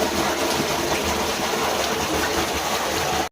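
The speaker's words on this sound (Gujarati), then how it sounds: "પાણી છલકાઈ ગયું જો તમે." Water gushing and overflowing, a dense continuous rushing spill that holds steady and loud for about three seconds before cutting off abruptly, with no talk.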